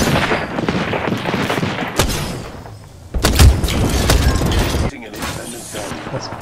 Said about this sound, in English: There was an airstrike inbound.